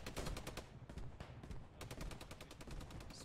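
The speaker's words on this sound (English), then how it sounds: "they're exchanging some fire." Rapid gunfire trades back and forth in the WWII shooter game Post Scriptum: dense, loud bursts of shots repeat in quick rhythm with no break, with no voices.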